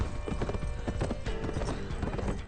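Hooves gallop in quick, rhythmic clip-clop beats, close and loud, with a brief neigh, as a horse runs through a martial arts drama scene, ending abruptly.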